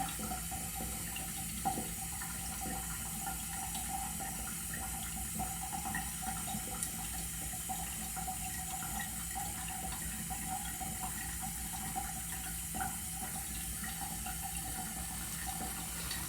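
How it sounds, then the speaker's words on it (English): Water runs steadily from a tap, a quiet, continuous splashing hiss that stays level throughout with no voices, while water is added to a clay face mask. "So just adding a little bit of water."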